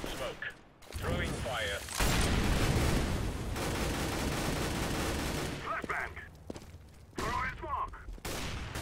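Counter-Strike: Global Offensive gunfire comes in loud, dense bursts of rapid shots with a long sustained stretch in the middle, and voices talk in the gaps between volleys.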